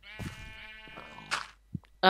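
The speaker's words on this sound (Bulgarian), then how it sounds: "Още една овца." A sheep bleats in Minecraft, a drawn-out tonal bleat up close followed by a short soft thump and a second brief bleat near the end.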